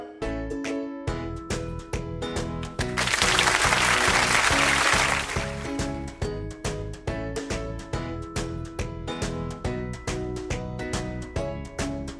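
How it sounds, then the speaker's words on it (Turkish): Preschool children clapping in a game about the colour red, a dense burst of clapping lasting a few seconds in the middle over a steady, rhythmic musical beat. "Sadece kırmızı renkli resim gördüğümüzde alkışlayalım."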